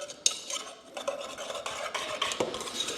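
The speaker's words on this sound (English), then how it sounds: "Want to give that a quick whisk." A whisk stirs flour and dry ingredients for banana pudding in a bowl, a brisk scratchy swishing with light clinks, close and fairly quiet with no talking.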